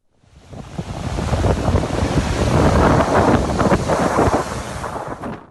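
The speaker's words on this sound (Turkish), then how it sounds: "Bursa'nın da birçok noktasında fırtına ve yağış etkili oldu. Gemlik ilçesine bağlı Kurşunlu mahallesinde deniz taştı." Stormy sea surging against the shore at Kurşunlu in Gemlik, Bursa, during a gale, with waves crashing and strong wind buffeting the microphone in a loud, continuous roar that swells in and fades out.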